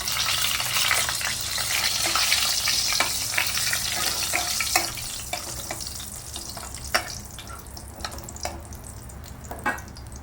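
Dried red chillies sputtering in hot oil with cumin seeds for a Bengali katla fish curry, a close sizzle that starts loud and settles lower, with a few sharp stirring knocks.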